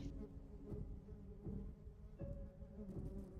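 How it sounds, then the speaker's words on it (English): Bees buzz steadily close by, a dense droning hum that swells and pulses with repeated surges, rising in loudness over a few seconds with no talk over it. "you hear the sound of bees, and it is getting louder"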